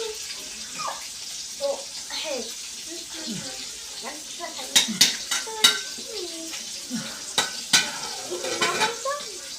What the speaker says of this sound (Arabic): الرز اهو يا حبايبي هقلبه